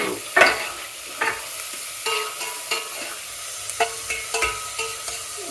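Shallots and mixed vegetables such as mushroom and pepper sautéed in a pan for dumpling soup: a continuous close sizzle with regular spatula scrapes and taps, no talking.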